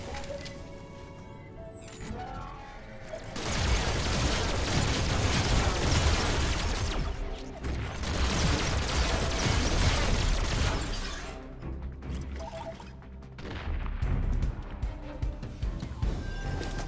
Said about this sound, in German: Da war eben eine Explosion.